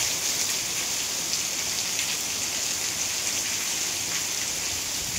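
Heavy monsoon-style downpour on a home in India, a dense, continuous hiss of rain on surfaces that stays steady and close throughout with no voices.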